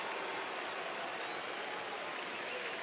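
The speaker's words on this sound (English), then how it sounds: "you can hear the chorus of U's going out in the crowd here at Rangers Ballpark" Baseball crowd at Rangers Ballpark sustaining a steady, dense roar of low booing-like voices during a game, continuous and broad with no distinct individual words, heard from within the stands.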